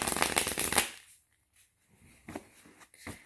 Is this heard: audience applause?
no